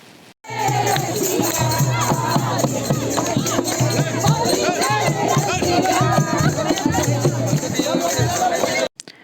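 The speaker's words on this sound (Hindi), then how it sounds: "तो आप लोग देख सकते हो कितना यहाँ पे गुलाल वगैरह उड़ रहे हैं, कितनी भीड़ है" A dense Holi crowd at the Barsana temple fills the air with loud, continuous babble and overlapping voices, close and unbroken for several seconds before cutting off abruptly.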